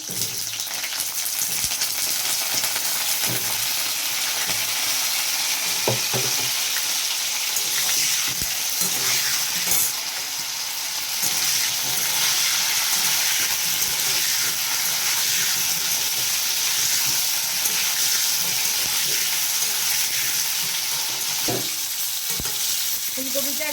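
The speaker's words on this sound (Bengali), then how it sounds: "জল জল আছে তো ওই জন্য একটু ফাটছে" Wet cauliflower florets frying in hot oil in a wok, a loud, dense sizzle and hiss with sharp spattering pops and occasional stirring scrapes, continuous throughout.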